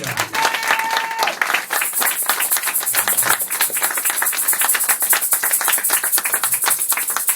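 Church congregation at an evangelical Sunday service breaking into dense, continuous applause and cheering, loud and steady throughout, with voices mixed into the clapping.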